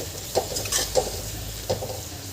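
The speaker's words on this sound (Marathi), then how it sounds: "ही भाजी आपल्याला अधेमध्ये अशी परतत राहायची आहे आणि अशी परतवत आपल्याला भाजी ही शिजवून घ्यायची आहे पूर्णपणे।" A spatula stirs chickpea leaf bhaji frying in a pan, giving a few distinct scrapes and clacks over a low, steady sizzle, close by.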